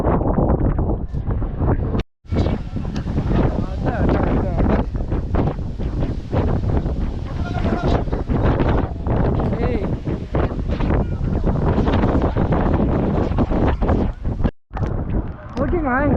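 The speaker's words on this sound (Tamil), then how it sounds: "இங்கே பார்த்தீங்கன்னா என்ன மாதிரி ஒரு காற்று அடிக்குது" Strong, steady wind roars and buffets the microphone with broadband rumble on a boat trip at Kanyakumari, nearly constant throughout with two brief dropouts.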